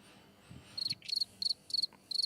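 Cricket chirping played as a sound effect, in five quick evenly spaced bursts of high trilling pulses, fairly faint over a quiet background.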